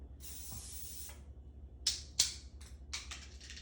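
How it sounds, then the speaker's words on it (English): Short hissing bursts of an aerosol can of non-stick cooking spray, one longer spray followed by several quick puffs, close by with no voices. "Spray with a little bit of non-stick."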